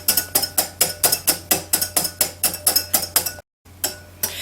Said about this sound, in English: Now I've been whisking this for a while